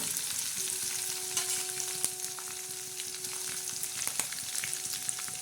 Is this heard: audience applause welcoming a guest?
no